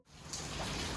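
Rain falls steadily on a wet day in Japan, a dense, even patter that swells in quickly and holds close and constant.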